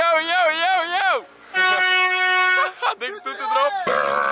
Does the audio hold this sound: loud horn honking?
yes